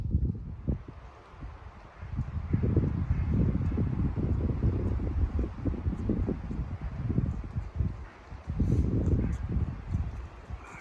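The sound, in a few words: wind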